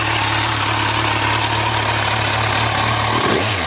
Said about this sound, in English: The exhaust has a great sound to it.